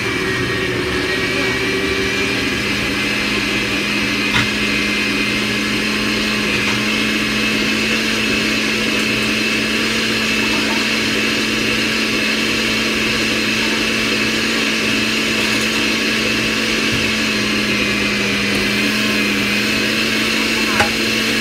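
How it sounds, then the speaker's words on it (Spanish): A blender whirs steadily and loudly the whole way through, a constant motor drone with a gritty, churning texture and no pauses. "Usted me va a disculpar si oye ruido porque es la licuadora."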